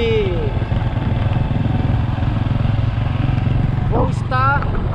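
A delivery motorcycle fitted with a cargo box runs with a steady low engine drone throughout, close by, with brief bird chirps or squeaks near the end.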